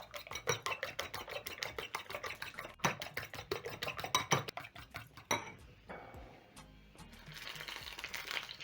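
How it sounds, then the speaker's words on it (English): Eggs seasoned with black pepper are whisked with a fork in a bowl, making rapid rhythmic clinking and scraping strokes, then slower stirring and a quieter hiss toward the end. "Using a fork, I'm going to whisk in the eggs until fully combined with the seasoning."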